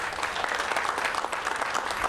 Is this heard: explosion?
no